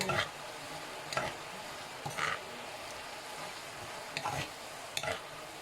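Bean sprouts are stir-fried in a pan. About five or six separate scraping strokes of the spatula break through a soft, quiet sizzle, close by and with no talking.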